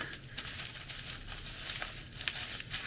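A taped parcel from China being unwrapped, with soft, close crinkling and rustling of packaging and tape in irregular bursts, quiet and with no talking.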